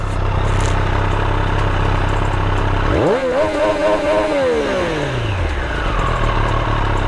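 A Triumph Street Triple R sport motorcycle engine runs loud and close, then revs up sharply, holds a high roar for a moment, and winds back down to a rumbling idle.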